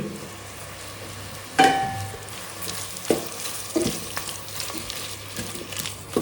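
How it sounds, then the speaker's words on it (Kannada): Chopped tomatoes frying in ghee with onion for tomato bath, a soft steady sizzle with several sharp scraping stirs and clinks of a spoon against the pan, close and fairly quiet. "ಟೊಮೆಟೊ ಫುಲ್ ಸಾಫ್ಟ್ ಆಗೋವರೆಗೂ ಚೆನ್ನಾಗಿ ಫ್ರೈ ಮಾಡ್ಕೊಳ್ಳಿ"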